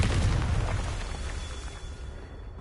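Confringo spell explosion in Hogwarts Legacy, a loud booming blast with heavy low rumble at the outset that slowly decays into a lingering roar, alone without talk.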